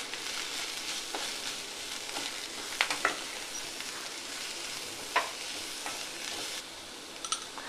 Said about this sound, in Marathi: आता भाज्या आपल्या छान परतून झालेल्या आहेत